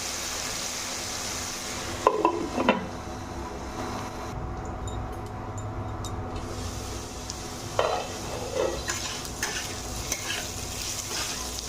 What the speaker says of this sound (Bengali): আর একটু আমি ঢাকা দিয়ে ভেজে নেব।